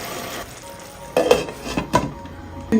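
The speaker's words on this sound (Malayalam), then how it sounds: "ഒന്ന് ഇളക്കി കൊടുക്കാം" Masala cooking in a covered pan on a low flame is stirred, with a faint sizzle beneath and several sharp spoon-against-pan scrapes and clinks spaced out over a few seconds.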